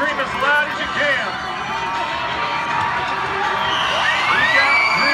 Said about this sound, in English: You gotta stand up and scream as loud as you can.